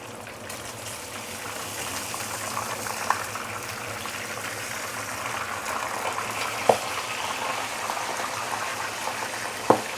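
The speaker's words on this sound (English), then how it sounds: "when you are deep frying fish" A large fish deep frying in hot oil, a steady close bubbling hiss that runs throughout, with a few faint pops and crackles breaking through.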